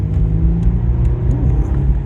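A Mercedes C300 4matic engine gives a low, steady gurgling rumble as it pulls away from a stop, close and continuous with a faint whir on top.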